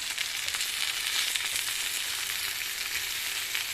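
Bonito fish fry in a pan with a steady, dense sizzle that holds at an even level throughout, close and fairly loud, with no voices.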